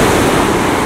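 Ocean surf rolls in at Hearn Gulch Beach, a loud, dense, continuous wash of breaking waves close by, with some wind rumble and no voices.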